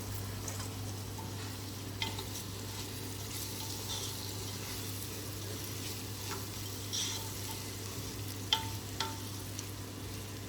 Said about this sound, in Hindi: तो राइस को फ्राई कर रही हूँ